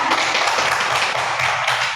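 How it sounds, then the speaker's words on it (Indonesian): Students in a classroom clap their hands together for a presenting group, a dense, steady patter of overlapping claps with no pauses, fairly loud and close. "Tepuk tangan"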